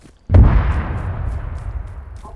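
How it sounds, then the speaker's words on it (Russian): A single heavy explosion in ArmA 3 bursts suddenly with a deep boom, then a rumbling tail fades over about two seconds, with a few faint crackles afterward. "Ох, нихера там взрывы"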